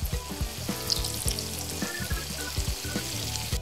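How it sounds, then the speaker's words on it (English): Croquettes fry in oil over medium-high heat with a steady, crackling sizzle and scattered pops, heard up close and continuous. "Fry them on medium-high heat for 1 to 2 minutes or until golden brown."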